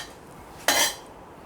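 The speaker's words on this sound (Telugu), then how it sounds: "ఈ ఎండుమిరపకాయలు వేగిన తర్వాత ఇలా కదిపినప్పుడు గలగలమంట సౌండ్ వస్తుందన్నమాట" Dry red chillies, roasted on a low flame, rattle once in a pan as they are stirred, a brief crisp dry clatter after a quiet kitchen background.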